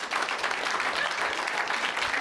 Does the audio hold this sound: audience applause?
yes